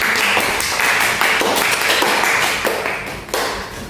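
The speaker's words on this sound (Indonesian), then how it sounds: "Beri tepuk tangan" Classroom applause for a student's class presentation, a dense run of quick hand claps from a group filling the room steadily and fairly loud before trailing off.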